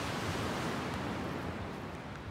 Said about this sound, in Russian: Никогда не думал, что шум моря может немного надокучать.